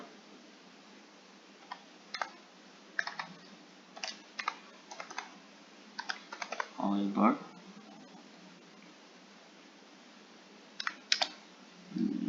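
Scattered keystrokes on a computer keyboard as a sentence is typed, light irregular clicks in small clusters, close but quiet, with a brief murmur of a voice partway through.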